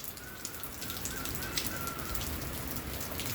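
Heavy rain keeps falling in Chhara village at night, a steady loud hiss of drops on surfaces with a faint bird call or insect tone drifting through the wash.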